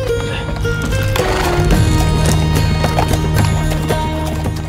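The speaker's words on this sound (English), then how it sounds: "being pulled around in a carriage with a horse" A horse pulling a carriage along a street beside the Nile in Luxor, hooves clip-clopping steadily amid continuous loud background noise and traffic-like tones, with a brief neigh-like sound.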